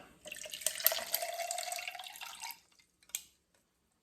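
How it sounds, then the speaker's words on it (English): Water pours steadily from a faucet onto two ice cubes for a protein shake, a close splashing stream lasting about two seconds before stopping, followed by one brief drip or clink. "I add a little bit of water."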